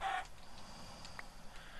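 A chicken clucks briefly and faintly in a video game, a short burst at the start followed by quiet ambient noise.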